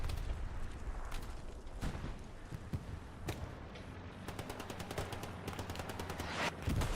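Steady gunfire in the World War II shooter Hell Let Loose during a winter battle, rapid cracking shots and bursts, some distant and some closer, thickening into a fast rattling volley toward the end.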